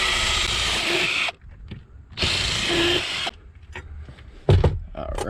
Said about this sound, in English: let's get this drilled in, supported down here.